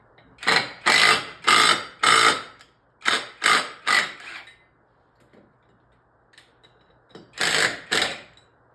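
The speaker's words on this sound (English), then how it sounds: "I do have my impact, my little battery one" A small battery-powered impact driver drives a fastener on a shop floor in rapid hammering bursts: four quick bursts, a pause, three more, then two, each loud and close against a quiet room.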